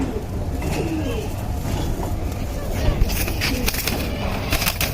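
Pigeons coo in soft, repeated throaty calls over a steady background hum, fairly close, with occasional fluttering and shuffling.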